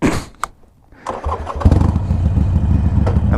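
A Harley-Davidson Iron 883 motorcycle engine cranks and catches, then settles into a loud, steady rumbling idle close by after a brief quiet pause.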